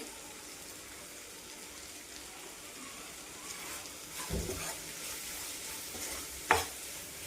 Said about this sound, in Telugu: ఒక్క నిమిషం వేగనిద్దాము